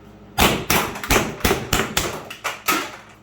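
A high-power less-lethal launcher fires about nine rapid shots in a steady rhythm, each a sharp close thump with a short decay.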